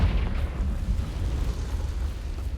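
A Confringo spell explosion in Hogwarts Legacy, a deep booming blast with a heavy low rumble that rolls on and fades slowly over a few seconds, with no voices over it.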